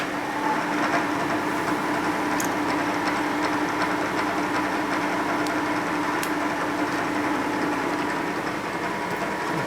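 A slow-spinning machine at about 625 RPM reams the pinion bushing of a Harley shovelhead cam case, giving a steady, continuous mechanical whir and hum with faint metallic ticks, close and unbroken throughout, with no talking.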